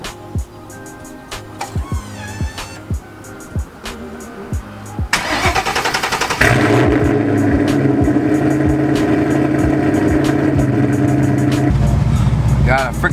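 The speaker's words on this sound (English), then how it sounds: "We get a cold start every single video, so let's do it." A Ford Mustang SN95 cold-starts after sitting unused for a couple of days: a brief crank bursts into a loud, steady idle that holds close by for the rest of the clip, with a few taps and clicks beforehand.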